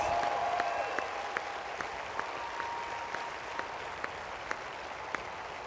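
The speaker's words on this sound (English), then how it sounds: "a round of applause." Faint applause at an ACLU People Power training event for members who attended; a soft wash of clapping with sparse, isolated sharp claps spaced about every half second, distant and low in level.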